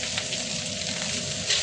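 Fried rice sizzles in a pan, a close, steady crackling hiss that runs unbroken with no voices over it.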